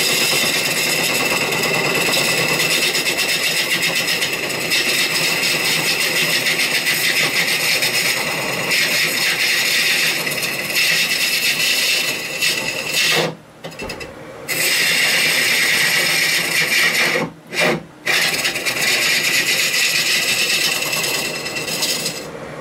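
A wood lathe with a gouge roughing out the base of a turned wooden bowl, a loud continuous rasping cut that holds steady and breaks off briefly twice as the tool lifts away.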